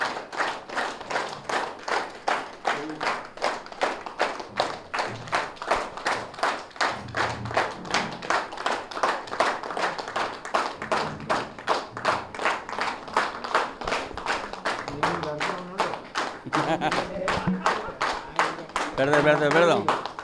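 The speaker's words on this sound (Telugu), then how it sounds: "గట్టిగా క్లాప్స్ అండి" Audience at a Sri Ramakrishna Paramahamsa Pyramid fourth anniversary gathering in Yanam clapping loudly and steadily, a dense run of sharp claps lasting throughout with a voice speaking over it.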